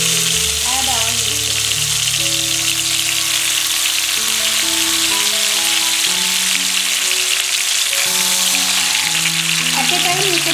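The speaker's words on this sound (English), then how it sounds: "First I am going to fry all the leg piece." Chicken leg pieces frying in white oil in a karai, a loud continuous sizzle and crackle that holds steady throughout without letting up.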